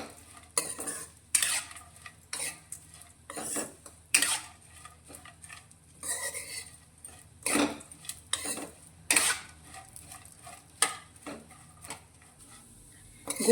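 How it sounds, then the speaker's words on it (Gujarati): Mango seed pieces being sautéed in ghee for a seed mouth freshener, with repeated stirring scrapes and clinks of a spoon against the pan over a faint sizzle, alone and fairly close, in irregular bursts. "ઘીની અંદર આપણે આ ગોટલીને 5 મિનિટ જેવી સાતળીશું"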